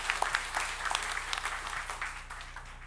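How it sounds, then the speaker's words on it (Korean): A church congregation claps together during a Sunday service in a short, lively burst of many hands, steady and fairly close. "우리 박수로 하나님께 영광 돌리겠습니다."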